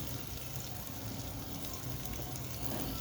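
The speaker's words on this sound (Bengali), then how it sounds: "আস্তে আস্তে এটাকে নেড়ে চেড়ে দিয়ে এটা ভাজা ভাজা করতে হবে" Vegetables frying in a pan while being stirred in a home kitchen, a soft continuous sizzle with faint scraping, fairly quiet and close.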